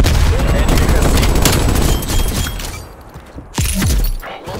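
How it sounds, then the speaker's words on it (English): Flashbang grenade detonation in a video game amid a rapid firefight: loud continuous rattling gunfire and crackling, then a sharp bang and ringing near the end, with brief game voice callouts. "Flashbang incoming."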